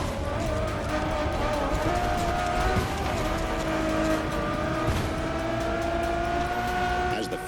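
Ferrari Enzo supercar engine in the racing game The Crew Motorfest, a steady sustained drone with rising tone across the span, continuous and moderately loud, with faint tire and road noise mixed in.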